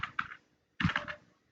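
Typing on a computer keyboard, with two short bursts of clustered key clicks separated by a pause. The clicks are close and moderately loud, with no one speaking.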